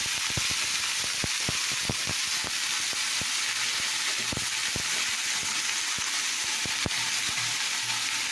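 Panch phoron spices frying in a pan, a constant sizzle broken by sharp crackles and pops and occasional stirring scrapes, close up with no talking.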